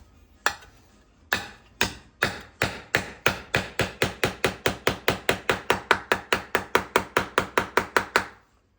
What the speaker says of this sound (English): So let's get one of the beaters. We do have quite a selection here. So let's see, start with a dull beater down here.